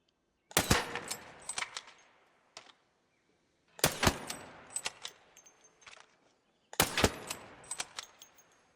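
Osprey rifle in the ARC Raiders video game firing without its extended barrel, three sharp loud shots spaced a few seconds apart, each followed by a rattling mechanical tail and quiet between.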